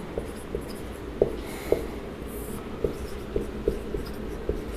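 Pen writing on paper during a math lesson, a run of close, dry scratchy strokes with short taps spaced irregularly over a quiet background, no talking.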